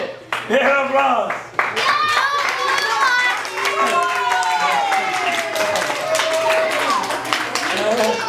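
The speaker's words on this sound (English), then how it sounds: "Yeah, applause." Children at an after-school science session clap and cheer in a scattered, uneven patter, mixed with excited shouting and nearby adult talk throughout.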